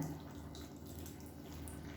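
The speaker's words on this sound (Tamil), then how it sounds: "தேவையான அளவுக்கு புளி தண்ணி சேர்த்துக்கோங்க." Tamarind water pours into a mango dish being cooked, a quiet steady trickle and splash heard up close for a couple of seconds.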